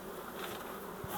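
Honeybees buzz steadily around a hive frame in spring, a soft continuous drone close by with no talk.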